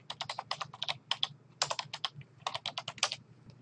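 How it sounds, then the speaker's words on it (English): Rapid typing on a computer keyboard, close and fairly quiet, with irregular bursts of crisp key clicks and brief pauses, no voices. "I'll start by typing the name and a space."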